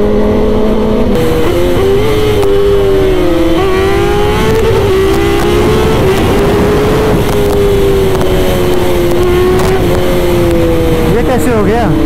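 Two sport bikes, a Kawasaki ZX-10R and a BMW S1000RR, drag race side by side, their engines holding a loud, sustained high-pitched wail that climbs through the gears, with excited talk over it throughout.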